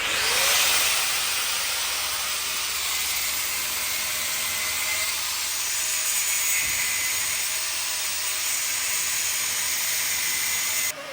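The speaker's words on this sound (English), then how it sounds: "So as you saw, Ben trimmed the existing axle, the original axle." A power tool grinds through a 79 Series vehicle axle with a continuous loud, hissing metallic whine that holds steady for several seconds, close up and without speech.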